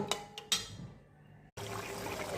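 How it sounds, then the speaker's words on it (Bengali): Water poured into a cooking pot over potatoes and cauliflower: a few soft clinks and splashes, a short pause, then a steady close rush of pouring liquid. "এখন জল দিয়ে দেব।"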